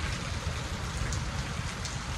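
Steady, dense rainfall pours down close by in a Marathi village setting, a continuous hiss of drops hitting surfaces with no pauses and no voices.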